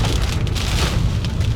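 Heavy rain pouring steadily in hilly woods, a dense, even hiss of drops on leaves and ground, loud and close with no voices.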